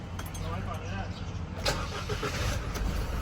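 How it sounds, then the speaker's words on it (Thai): An Isuzu Spark cab chassis 1.9 engine cranks and catches, settling into a low rumble, with a voice talking over it throughout. "ผมลองสตาร์ทรถ"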